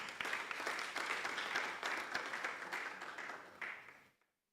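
Audience applause at a campus safety launch event, a dense burst of many hands clapping that holds steady for about four seconds, then fades quickly and stops.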